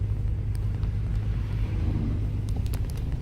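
A truck fitted with a snow plow creeps along slowly, its engine giving a steady low rumble with a few faint clicks and knocks near the end.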